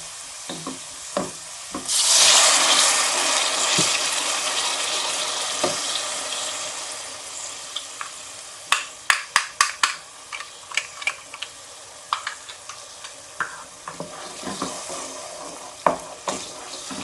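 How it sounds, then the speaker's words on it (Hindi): Steady frying sizzle swells as water hits a hot pan of frying onions, followed by scattered clinks and scrapes of stirring; no one speaks. "अब बस इसमें मैं थोड़ा सा पानी डाल के फिर लहसुन डाल दूँगी।"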